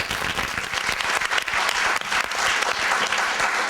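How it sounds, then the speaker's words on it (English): An audience at a literary festival applauds the festival volunteers, with full, dense clapping that stays loud and continuous from start to finish, no voices on top. "I think they should all get a round of applause before we even begin."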